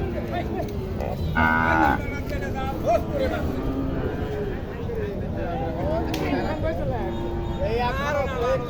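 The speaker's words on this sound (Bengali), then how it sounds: "ছোট্ট একটা দেশি গরু খুব ডিস্টার্ব করতেছে" Cattle, including a small native cow, moo several times, loud and near, amid a busy murmur of people talking at a cattle market in Naogaon.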